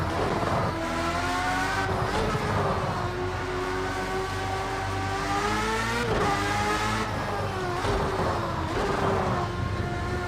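A Project CARS 2 race car engine at full throttle in fifth gear, a loud, close whine climbing steadily in pitch, briefly dropping at each shift and then pulling upward again, with no voices.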